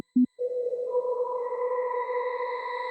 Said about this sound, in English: you can hear that quite intense pitch shifting that's happening, the modulation which is being applied to the reverb sound